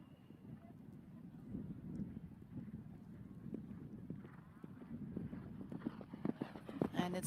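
A tall, big-striding horse gallops on an eventing cross-country course, its hoofbeats faint and rhythmic under wind noise, with a commentator talking over it.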